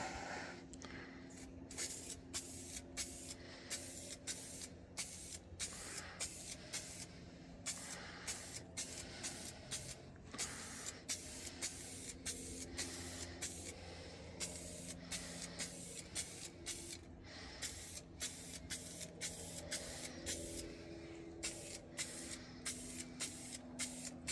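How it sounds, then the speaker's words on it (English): Short repeated bursts of a spray gun hiss in an uneven rhythm, close by in a paint booth, with pauses between passes. "That spray's pretty nice"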